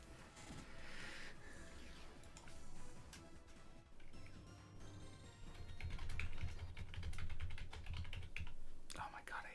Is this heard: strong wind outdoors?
no